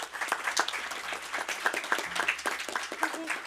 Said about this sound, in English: for the 4 researchers, an applause, please.